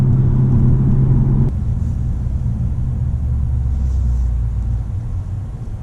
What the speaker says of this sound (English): there's something about that V8 rumble that really makes a performance car awesome